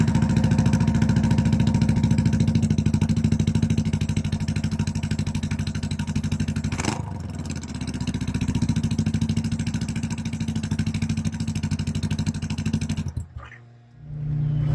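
A 2021 Honda Rebel 500 motorcycle engine runs with no muffler fitted, a loud, raw, steady idle with a brief dip midway, then cutting off abruptly near the end.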